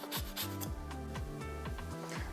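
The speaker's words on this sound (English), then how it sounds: "We're gonna use a microplane" A whole lemon being zested on a microplane gives repeated short rasping strokes in a steady back-and-forth rhythm, close and fairly quiet, over a tonal music bed.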